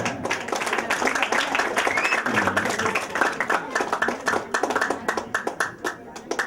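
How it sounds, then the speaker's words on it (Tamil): A hall audience at a Thai Poosam function at Sathiya Gnana Kottam in Vembirai, Sri Lanka, gives dense, sustained clapping that stays loud and even from start to finish. "அரங்கு நிறைந்த கரகோஷம் கண்டிப்பாக."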